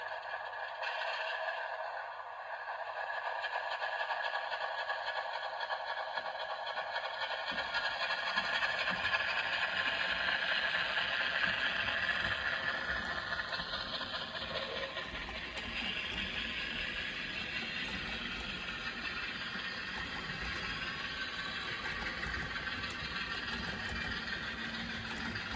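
A Walthers HO-scale Canadian Pacific ES44AC model diesel locomotive with DCC sound hauls a rake of wagons, its steady motor hum and rail-wheel rattle running continuously at moderate level with no talk.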